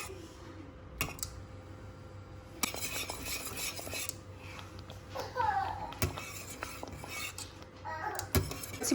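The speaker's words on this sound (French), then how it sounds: "il faut vraiment mélanger sans arrêt" Thickening cream sauce stirred nonstop in a pot for a croque monsieur gratin, with intermittent scraping and clinks of a utensil against the pot over a low background, close and moderately quiet.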